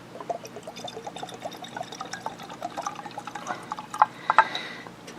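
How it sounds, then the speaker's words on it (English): Flask 145 rye whiskey poured from the bottle into a glass, a soft, close trickle and splash that builds toward the end, with faint glassy clinks and no talking. "And here's the pour."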